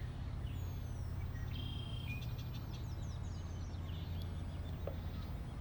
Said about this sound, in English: all you can hear are the birds